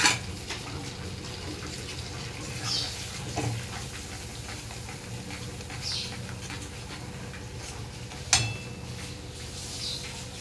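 Water runs steadily from a tap while a bowl is rinsed in a kitchen sink, a continuous splashing flow with a couple of brief knocks of the bowl, no voices.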